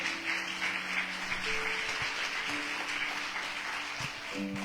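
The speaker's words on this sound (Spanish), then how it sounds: "Dele fuerte ese aplauso al Señor, hermano." Steady applause from a church congregation during a worship service fills the space, a continuous wash of clapping with a low musical tone underneath.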